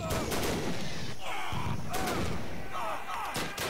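Dense gunfire and explosions from a World War One video game battle, machine guns firing amid booming blasts in a loud, continuous, chaotic barrage.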